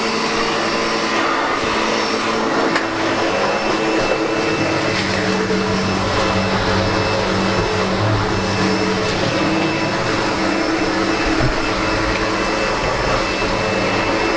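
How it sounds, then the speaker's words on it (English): A SEBO Automatic X7 Boost ePower upright vacuum cleaner runs steadily with its brushes on, a loud, constant motor whine and brush hum, unbroken throughout with no voices. "I've got the vacuum in the upright position and the brushes are running,"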